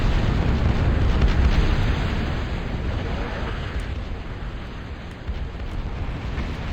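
An artillery barrage in a real-time strategy game's 4v4 match on the Escalated Chilly Rivers map, a continuous dense rumble of overlapping explosions that swells loudly at first and then eases slightly.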